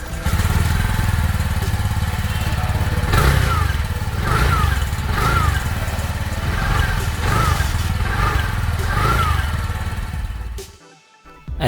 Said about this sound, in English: Now let's hear the exhaust note of the vehicle.